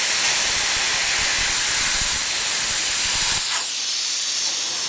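BestArc BTC500DP plasma cutter slicing metal at 40 amps, a loud, steady, close hiss that cuts off sharply after a few seconds, leaving a fainter lingering airflow.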